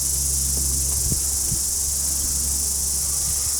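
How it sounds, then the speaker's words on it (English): Dense, steady insect buzzing from cicadas clustered on a tree in New Zealand, a continuous high-pitched drone filling the whole stretch, with a low hum and a few faint knocks beneath. "Is that a cicada?"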